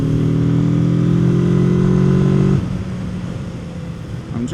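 A Kawasaki Z650 motorcycle is ridden along a coastal road in Croatia, its engine droning loud and steady with strong low harmonics, then dropping to a quieter, rougher rumble partway through as the throttle eases.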